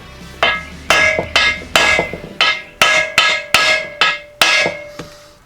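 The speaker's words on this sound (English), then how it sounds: "just tap on the yoke and it kind of shocks the whole thing" A hammer tapping on the tail light yoke of a Jeep J10, about ten crisp, ringing metallic strikes in a fairly steady rhythm, close and loud with no talk.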